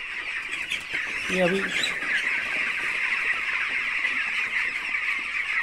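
About three thousand chicks, ten to twelve days old, fill a poultry shed with a dense continuous high peeping chorus, while someone talks briefly over it near the start.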